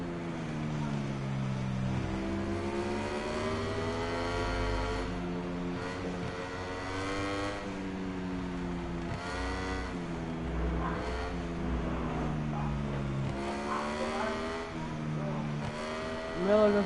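A Ducati MotoGP motorcycle engine in the MotoGP 22 video game during German GP qualifying, a sustained high revving whine that rises and falls in pitch as the bike shifts through gears, steady and prominent throughout.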